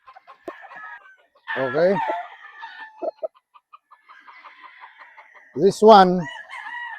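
A pure white brood stag rooster clucks and gives short crowing calls at close range on a gamefarm, with loud bursts between quieter clucks while someone speaks briefly.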